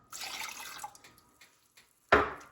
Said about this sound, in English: you're going to add a half a cup of water